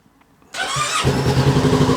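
A 2022 Kawasaki Z650 RS motorcycle engine with stock exhaust cranks and catches after a brief quiet moment, then settles into a steady, close running rumble.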